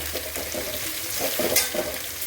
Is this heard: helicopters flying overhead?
no